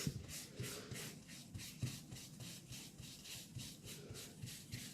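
Soft pastel rubbed through a stencil onto paper gives a steady run of dry, scratchy strokes in a quick back-and-forth rhythm, close and moderately quiet, with no voices.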